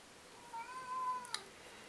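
A house cat meows indoors, one drawn-out, wavering cry, fairly faint and close by in a quiet room, followed by a brief small click.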